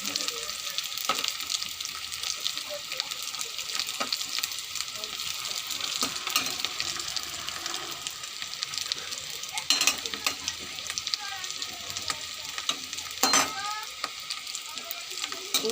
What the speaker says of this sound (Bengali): একটু লাল লাল করেই আলুটা ভেজেছি